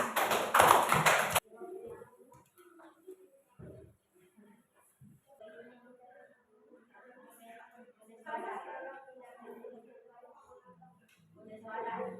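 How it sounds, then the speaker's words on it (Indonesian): A classroom of students gives a group a short burst of loud applause that stops abruptly after about a second, followed by a teacher talking quietly in the room. "Beri tepuk tangan kepada kelompoknya Kila"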